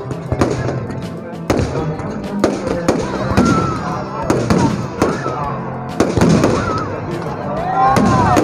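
Fireworks burst repeatedly in loud, sharp booms and crackles, one after another, at a Kumbhakarna effigy-burning event, while a crowd cheers and people talk in the background.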